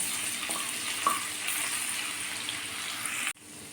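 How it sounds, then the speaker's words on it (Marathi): Ginger garlic paste for mutton sautés in oil with a steady, moderate sizzle and light stirring clicks, then cuts off abruptly near the end. "अद्रक लसूण पेस्ट छान परतून झालेली आहे"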